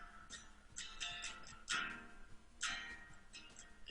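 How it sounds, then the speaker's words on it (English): A clock gives a steady series of bright, dry ticks with a few stronger clicks standing out, close and alone against a faint background hiss. "Ticking on and on."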